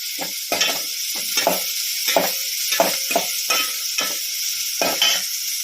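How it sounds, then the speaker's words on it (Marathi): Sambar vegetables fry in a pan as turmeric and eggplant go in, giving a steady close sizzle broken by regular scraping stirs about every half second. "त्यामध्ये थोडीशी हळद टाकणार आहोत त्यानंतर वांग टाकणार आहोत त्यामध्ये"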